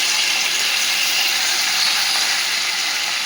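Marinated banana flower dropped into a pan of frying potatoes and prawns, giving a steady, loud, broadband sizzle that holds evenly throughout with no talk.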